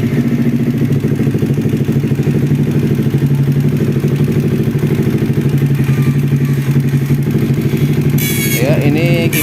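Kawasaki Ninja 250 motorcycle engine idling steadily with its radiator fan running, a continuous close, loud engine hum with a faint whir, and a brief higher whine near the end.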